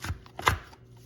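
A knife chops egg, bacon, tomatoes and jalapeno together on a board for a chopped salad, giving a few quick close strikes with one louder thunk in the middle and no talk.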